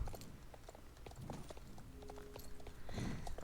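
Horse hooves clip-clop at a steady walking rhythm in the video game Star Stable Online, moderately quiet and heard alone beneath a soft game ambience.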